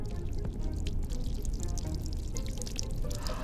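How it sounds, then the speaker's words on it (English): Water pouring or running steadily aboard a haunted train in a horror video game, a continuous close wash with faint drips and clinks over a low rumble. "Why do I hear water?"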